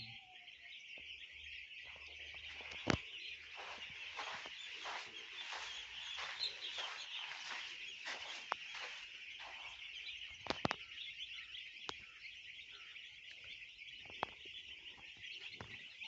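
Dense, steady high-pitched chirping of many three-day-old broiler chicks feeding on a poultry farm fills the space, with occasional sharp clicks and taps standing out over the constant cheeping.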